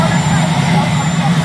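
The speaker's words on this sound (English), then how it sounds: "you have a helicopter that's raging back" A helicopter engine roars loud and steady beside a press conference at the White House, a constant whine and rumble with voices talking beneath it.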